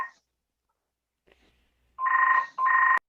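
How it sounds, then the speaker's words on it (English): A telephone rings indoors in a quiet room: a brief ring fades at the start, then after a pause come two close, clear electronic ring bursts. "Well, somebody's ringing."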